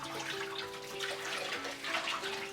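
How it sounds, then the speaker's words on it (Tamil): Water splashing and swirling as a new clay pot is rinsed during seasoning, a continuous sloshing with a faint steady tonal hum underneath, close and moderately quiet, with no speech. "இப்போ விளக்கி முடிச்சதுக்கப்புறமா தண்ணியில் சேர்த்து நல்லா அதை வந்து அலசிக்கோங்க."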